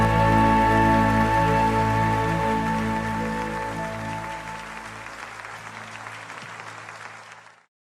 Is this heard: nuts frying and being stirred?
no